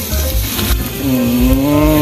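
Steady sizzling of pork frying on a Thai tabletop grill at a campsite, a continuous crackle with a faint tonal hum running through it.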